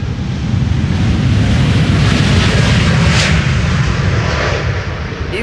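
A KLM passenger jet on a flight to Toronto, departing the Polderbaan runway 36L at Amsterdam Schiphol, making a loud, close, continuous rumbling roar that swells slightly and then eases near the end.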